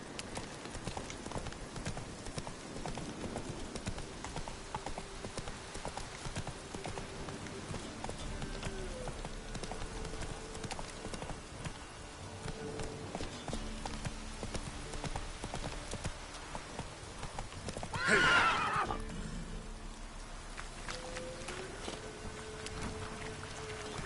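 Horse hooves clip-clop steadily through rain in The Witcher 3 open-world game, a continuous mid-level galloping rhythm with a brief louder swell near the end and no clear neigh.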